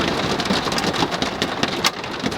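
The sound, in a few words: hail falling on Airstream trailer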